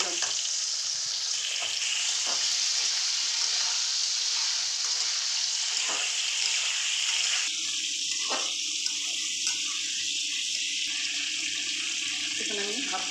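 Potato pieces fry in hot oil with a steady hiss and bubbling that stays close and constant throughout, broken here and there by faint stirring and clinks, with no voices.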